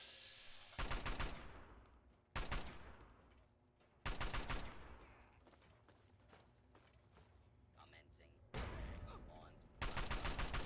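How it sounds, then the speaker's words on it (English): Several loud explosive blasts in the Fallout 3 video game, likely a frag mine going off, arrive as sharp broadband bursts separated by quieter stretches, with game ambience between them. "I don't know if that was a frag mine or a... I hope it was a frag mine."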